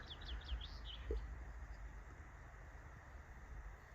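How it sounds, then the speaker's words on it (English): Faint, distant birds chirp in a dense forest near lakes, a quick run of high tweets early on over a low steady rumble, then the woods fall quiet. "And the birds chirping."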